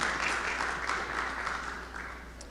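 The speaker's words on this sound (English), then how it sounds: "you can applaud if you want" A small audience at a city planning and zoning commission meeting gives a soft, scattered round of applause in a quiet room, fading slightly toward the end.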